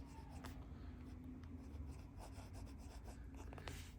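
A Lamy fountain pen nib scratches lightly across paper as it writes, a faint soft rasping with small irregular strokes and ticks, close up and unaccompanied by speech.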